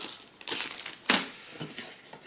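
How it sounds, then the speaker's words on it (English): Paper inserts and paperwork rustled and crinkled while unboxing a Panasonic G80 camera kit, with several close crumpling bursts and one sharper crackle midway. "bits of paper, more paperwork"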